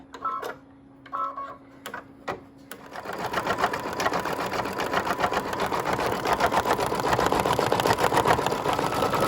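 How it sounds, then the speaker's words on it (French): An embroidery machine fills in a dress motif over Mylar, starting after a few clicks and beeps and then running in a fast, steady, rhythmic chatter at close range. "Je vais maintenant faire le remplissage de la robe."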